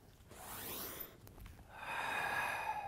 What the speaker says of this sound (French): J'inspire et j'expire tranquillement.